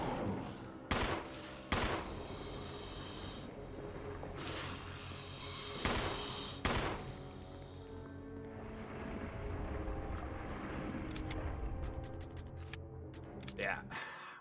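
Gunfire in the Resident Evil remake video game: several loud separate shots over a low droning game background, with a player talking in between.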